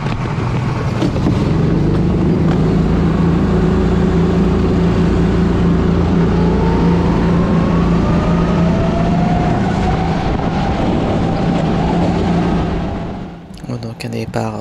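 Racing kart engines at a Le Mans-style start in a kart championship round at Plessé, a loud, sustained buzzing drone with rising pitch as the karts accelerate away, close, then cutting off abruptly near the end.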